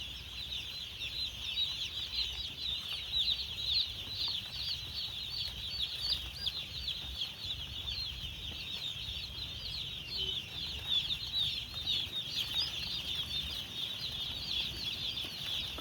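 Chickens on a village poultry farm cluck in a steady, dense chorus with occasional wing flaps, sustained throughout at moderate loudness with no talking.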